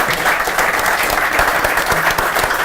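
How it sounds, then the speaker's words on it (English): A crowd at a brewing industry talk in a Chicago bar claps loudly and continuously, a thick wash of applause with no pause throughout. "How about a round of applause for these guys?"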